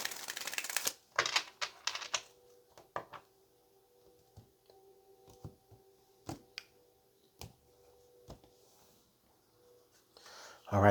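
Tarot cards riffle and snap in quick bursts, crisp papery flutters close to the mic, with short pauses between shuffles and a low hum underneath.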